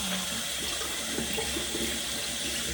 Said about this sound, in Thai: ล้างมือสะ